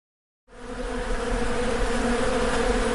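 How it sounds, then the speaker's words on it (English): An angry swarm of bees buzzes as a dense, steady drone in an audio drama, bursting in after a half-second of silence and holding loud and continuous to the end, with no voices. "Pouring from the mouth of the newly formed monster is a swarm of angry bees"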